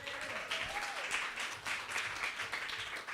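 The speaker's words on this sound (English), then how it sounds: "Some claps if you're a poet" An audience at a youth poetry open mic applauds in a steady, fairly faint wash of clapping, with a brief whistle-like tone riding over it early on.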